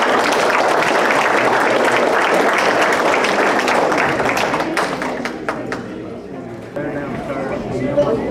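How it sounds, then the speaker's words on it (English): A fair pageant audience claps for the contestants, with loud, full applause that thins into scattered claps midway, while voices and crowd chatter mix in beneath it toward the end. "Once again, we would like to give a round of applause to each of these contestants."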